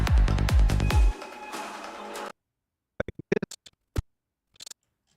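Processed audio demo with stereo widening and a light MeldaProduction mTurbo Reverb: a dense, loud percussive burst with thumping low hits for about two seconds, then silence broken by sparse, sharp clicks and ticks.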